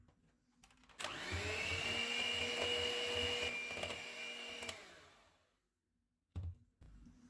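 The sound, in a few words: mixer mixing eggs, milk and vanilla essence for cake batter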